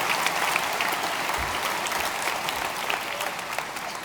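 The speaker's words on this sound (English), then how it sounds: "Oh, I like applause, thank you." A high school graduation audience applauds, a thick, sustained roar of many hands clapping with faint crowd murmur, steady and loud across the whole stretch.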